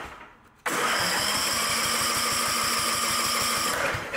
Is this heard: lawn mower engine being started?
yes